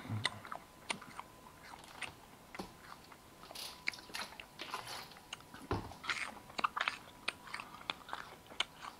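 A man chewing and biting into a plum, with close, irregular wet crunches and smacking bites scattered across the stretch over a faint background.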